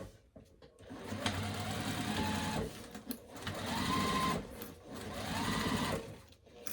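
A home sewing machine running fast in repeated long bursts with short pauses between, a rapid mechanical whirring and clatter close by, its motor pitch rising as it speeds up.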